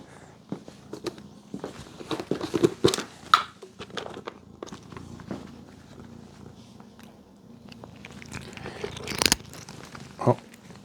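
A petite cat eating crunchy cat treats: close, irregular crunching and biting bursts with soft rustles and movement between them, sharper clusters at the start and end.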